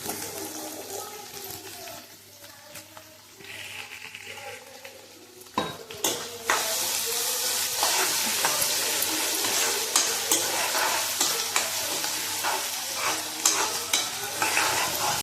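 Onion, tomato and vegetables cook in a home kitchen pan, quiet at first with utensil clinks, then a steady sizzle swells after a loud clatter, punctuated by repeated stirring scrapes and metal taps close by.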